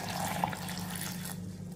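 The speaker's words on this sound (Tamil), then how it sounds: "இப்போ நம்ம தண்ணி ஊற்றிக்கிடுவோம்." Water poured into a mixer jar already holding mint, curry leaves, ginger and cucumber, a steady close splashing trickle that runs for under two seconds and thins out near the end.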